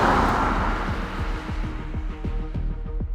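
A BMW M5 Touring fast estate accelerates hard, its engine note climbing through the gears with a string of quick upshifts, loud and close from inside the car, with no talking.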